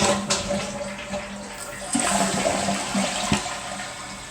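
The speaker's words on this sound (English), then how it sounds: "Let's go ahead and test flush" A newly installed toilet in a mobile home bathroom flushes once, a loud, close rush of water that swirls and gurgles steadily for several seconds with no talking.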